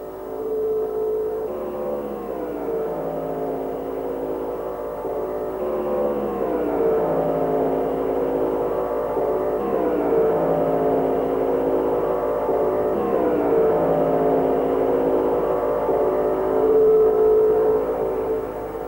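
1950s Grand Prix race cars, including a Maserati, scream around a circuit. Engines rise and fall through repeated gear changes and pass by with sweeping pitch shifts, loud and close, with no talk.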